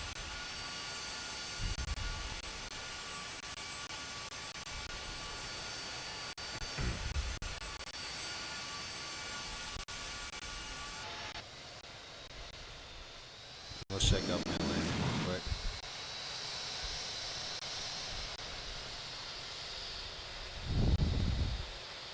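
A simulated airliner climbing after takeoff in Infinite Flight produces a steady, moderate engine drone with a few soft low thumps scattered through it.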